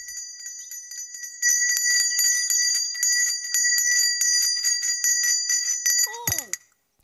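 A small hand bell rings rapidly and continuously for about six seconds in a children's TV show, loud and close. A quick sliding, descending tone cuts it off at the end.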